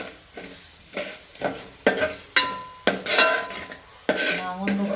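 Mango pieces stirred in a pan of hot coconut oil with turmeric, a spoon scraping and clattering against the pan in repeated strokes over a steady close sizzle, with no voices.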